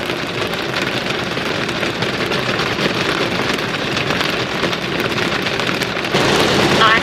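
Dense, steady pattering of hail on a Tesla car, a constant rattling hiss that grows slightly louder near the end.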